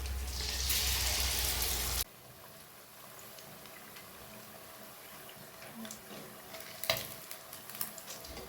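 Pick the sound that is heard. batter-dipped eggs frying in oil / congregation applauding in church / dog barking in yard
batter-dipped eggs frying in oil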